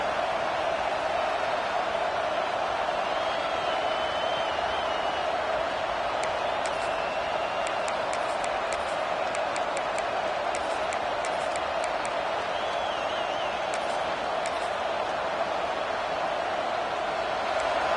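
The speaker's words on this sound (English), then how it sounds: "This crowd trying to make life miserable for this offense." A football stadium crowd at an Auburn game roars in a steady, distant wall of noise, with faint whistles and bursts of cheering rising over the constant din.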